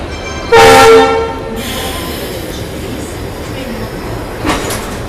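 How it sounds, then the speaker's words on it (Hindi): At Kanpur Central railway station, with the Kanpur Shatabdi train standing nearby, a loud train horn sounds for under a second. Busy platform rumble and rail noise follow, then a brief clank near the end. "फाइनली हम लोग पहुँच चुके हैं कानपुर सेंट्रल रेलवे स्टेशन और पीछे खड़ी है अपने कानपुर शताब्दी भी"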